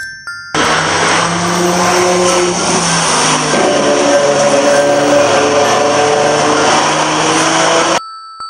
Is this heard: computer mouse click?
no